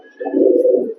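A pet pigeon gives a single loud, close, throaty coo lasting under a second.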